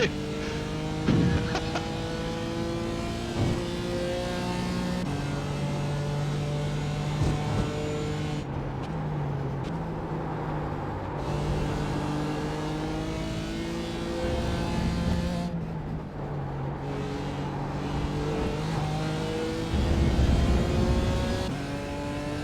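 A GT4 race car on track at Sebring, heard from onboard: a loud engine note climbing through gears, dropping under braking and then accelerating hard again, steady and close throughout.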